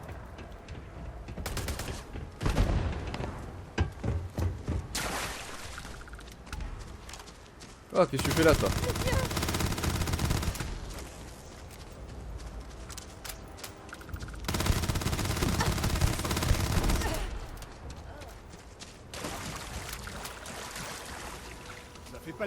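Gunfire in the Starfield video game: repeated rapid bursts and long sustained volleys of shots, loud and close, with someone speaking French between the barrages.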